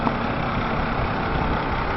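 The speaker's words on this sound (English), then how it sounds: "Cummins engine." A Cummins engine on a truck trailer unit runs steadily, giving a loud, continuous, broadband rumble and clatter with no pauses and no voices.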